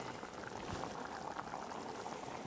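Pot of water for cooking cuttlefish coming to the boil, a dense continuous bubbling and simmering hiss, close and steady with no talk over it.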